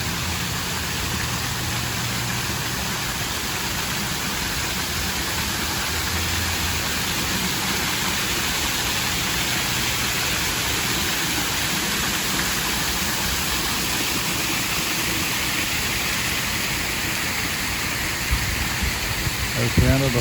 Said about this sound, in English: I'll let you listen to the sound of the water.